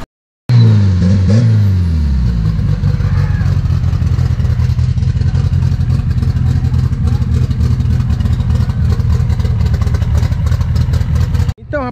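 A prepared drag-racing car launches hard at a practice session on a drag strip in Roraima. Its engine roars loud and close, holding a sustained high-revving snarl for about eleven seconds before cutting off.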